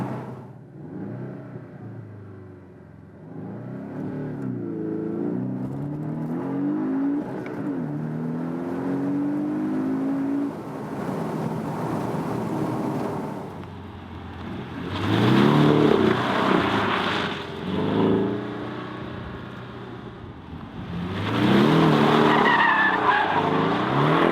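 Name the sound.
Porsche 718 Boxster S engine accelerating and drifting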